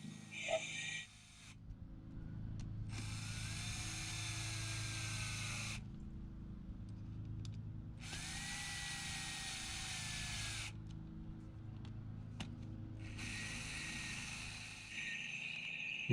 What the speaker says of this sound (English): Grab your driver and just slowly screw those back in there.